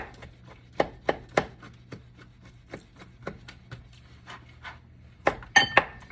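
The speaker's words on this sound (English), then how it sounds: "we're gonna go ahead and chop our meat up a little bit" A knife chops seafood meat on a cutting board with a series of sharp, close taps, irregular and spaced apart, clustering into a quick burst near the end; no speech.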